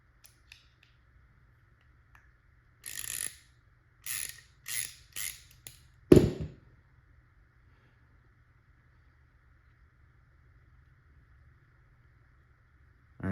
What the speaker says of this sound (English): And it is an 11 millimeter socket